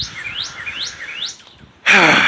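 A bird chirps three rising, swooping calls in a row, followed by a sudden loud burst of breathy noise.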